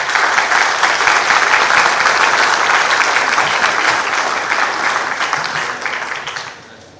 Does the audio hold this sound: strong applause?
yes